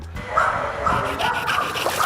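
Pet dogs at a dog pool in Thiruvananthapuram bark, yip and whimper close by in quick, overlapping bursts over a brief stretch.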